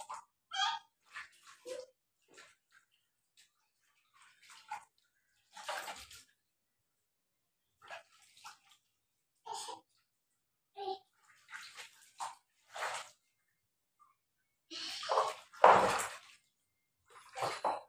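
Water splashes in short, scattered bursts while a small child is bathed, with quiet gaps between splashes and a louder flurry near the end.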